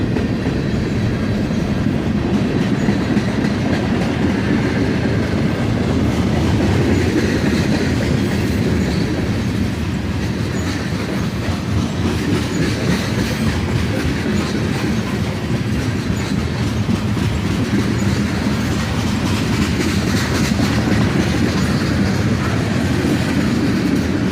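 A freight train at Carlisle rolls past while slowing down, a loud, close, continuous rumble of wheels and cars with faint rhythmic clicking over rail joints sustained throughout.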